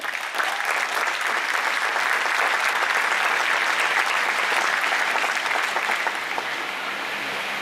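Loud, sustained applause from an audience at a memorial gathering, dense and continuous throughout with only a faint crowd murmur beneath.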